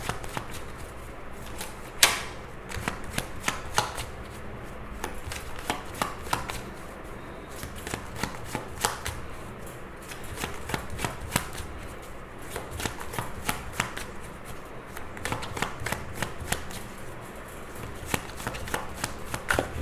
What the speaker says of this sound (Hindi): 5 कार्ड्स निकालते हैं रैंडमली।